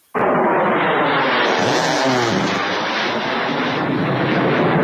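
An A-10 Thunderbolt II jet aircraft roars in suddenly with a loud, broad, rushing blast of noise that holds steady, like a low close pass overhead.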